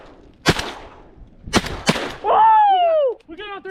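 Shotgun blasts during early teal and September goose season waterfowl hunting: one sharp report, then two more in quick succession, loud and close, followed by loud honking and calling from geese or ducks.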